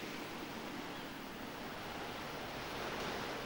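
Waves wash steadily onto a wide sandy beach near Holyhead on Anglesey, Wales, a continuous broad roar of surf with no distinct breaks, soft and distant with no voices.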